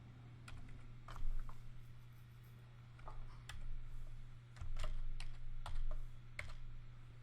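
Irregular bursts of key clicks from a computer keyboard as an account code is entered into accounting software, with short pauses between strokes over a steady low electrical hum.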